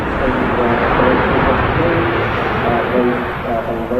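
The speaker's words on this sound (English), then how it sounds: "Nice loud reverse thrust there from the Ryanair 737-800." Reverse thrust from a landing Ryanair Boeing 737-800 at Manchester Airport is a steady, loud broadband roar with a faint tonal whine, heard from a distance for several seconds while someone talks over it.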